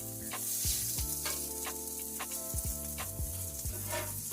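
Bacon sizzles steadily on a new Blackstone griddle, a dense, even crackle with scattered pops and spits throughout, close and fairly loud with no voices.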